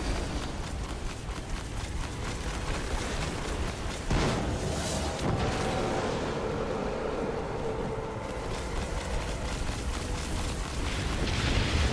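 A detonation blast from the video game Destiny during a King's Fall raid run, a dense rumbling burst that swells around the middle and lingers amid continuous game noise and effects.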